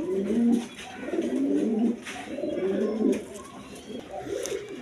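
A pair of short-faced pigeons, a red three-bar bird and a yellow one, give repeated low rolling coos close by, in phrases about a second long with brief pauses.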